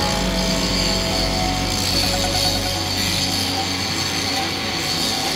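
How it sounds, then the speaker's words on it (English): Angle grinder cutting metal and throwing sparks close to a synthetic crane rope, a steady, loud, abrasive whine that runs on without a break. "we're going to investigate what the grinding effects are on the synthetic rope from a distance of 50 centimeters"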